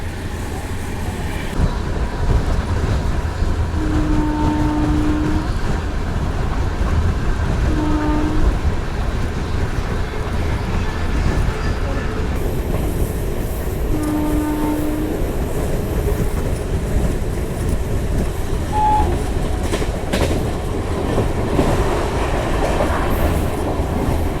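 The Brindavan Express rolls on the line between Bengaluru and Chennai, a steady loud rumble and rattle of carriages heard from inside, with a few faint tonal whines drifting over the din.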